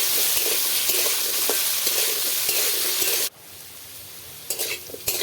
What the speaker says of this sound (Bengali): এরপর ঢাকাটা খুলে নিচ্ছি আর কিছুক্ষণ নেড়ে চেড়ে তারপরই হয়ে যাবে আলুটা।